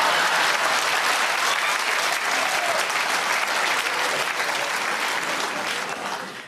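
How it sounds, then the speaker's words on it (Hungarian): Thick, full crowd applause filling a studio audience space, loud and constant before tapering slightly at the very end. "Egy szolid tapsot tegyünk ide."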